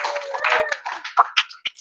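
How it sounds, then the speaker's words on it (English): A small audience at the Mrs. Universe Australia 2022 press conference gives a brief burst of applause for the Mrs. Universe candidates: scattered, sparse claps that thin out quickly after a voice at the start. "let's give our Mrs. Universe candidates a round of applause, ladies and gentlemen"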